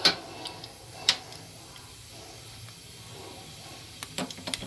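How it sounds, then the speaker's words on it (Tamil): One cinnamon stick and a little cumin sizzling in hot oil as tempering for a matar paneer, a faint soft hiss with a few sharp crackling pops. "இதை வந்து ஒரே ஒரு பட்டை, கொஞ்சம் சீரகம் போட்டு தாளிச்சிக்கலாம்."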